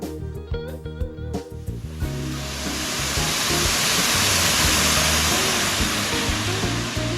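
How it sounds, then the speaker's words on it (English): A waterfall feature on a golf course at Silver Creek Valley Country Club pours as a steady, broad rushing wash that swells in after a few seconds of music and then holds constant. "We had this waterfall that was, really neat feature and expensive feature to install"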